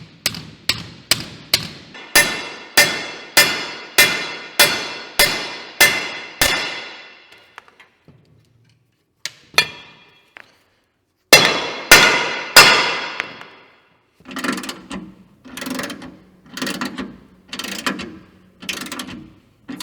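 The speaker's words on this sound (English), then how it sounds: "we need to drive the bushings into each end of the spring" Steady hammer blows drive bushings into the ends of a new leaf spring for a 1964 Jeep CJ5, a loud run of evenly spaced metallic strikes, then a pause, a few isolated knocks, and another rhythmic burst of heavy taps.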